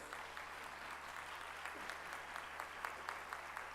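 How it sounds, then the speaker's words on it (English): Faint, distant applause from an audience at a C-20 summit gathering in Jaipur honouring India's Defence Minister, a steady patter of many hands holding at an even low level throughout. "Let us have a big round of applause."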